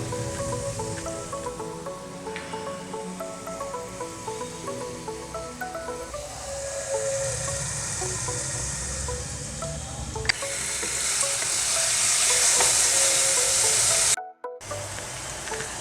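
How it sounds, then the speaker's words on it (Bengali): Tomatoes frying in a pan over ginger and garlic paste for chicken lahori, a steady close sizzle with stirring scrapes that swells louder toward the end before a brief cutoff. "আদা বাটা রসুন বাটা দিয়ে আমি 2 মিনিট ধরে ভাজা করে নিয়েছি, এখন আমি টমেটো দিয়ে দিচ্ছি।"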